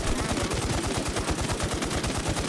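Rapid automatic gunfire fills the scene in the Warz II shooter game, a dense, continuous burst of loud shots with a steady rhythm and no voices.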